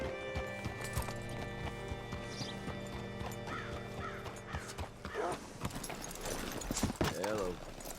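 Horse hooves clip-clop at a steady walking pace in Red Dead Redemption 2, close and rhythmic, with a brief neigh and background bird calls, while someone speaks over the footsteps.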